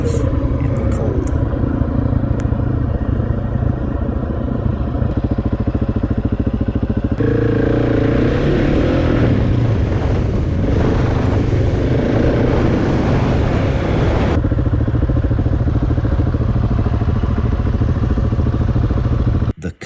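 Motorcycles ride a paved road on an Arizona BDR winter trip, a steady, loud engine drone with wind rush that holds unbroken for the whole stretch.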